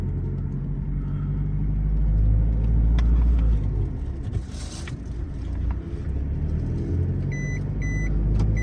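Isuzu pickup truck, a 2024 1.9 cab model, accelerating from first gear: a steady low engine rumble and road drone that swells and eases as it pulls up through the gears, heard from inside the cab with no talking.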